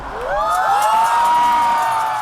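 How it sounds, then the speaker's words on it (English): A crowd at a New York climate march roars, the sound swelling quickly into a loud, sustained, rising cry with a tonal, alarm-like edge. "a roar slowly built up like a wave through the streets as all assembled sounded a climate alarm"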